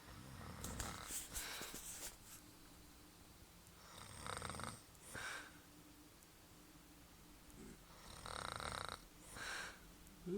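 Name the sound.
mother snoring loudly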